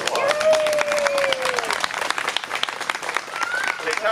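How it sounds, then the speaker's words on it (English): A crowd at the Nuremberg Celebration in Nuremberg applauds Alan Mooney, honored as distinguished North Union Township resident. Loud, sustained clapping fills the room, with voices and a thin whistling tone mixed in. "How about a round of applause?"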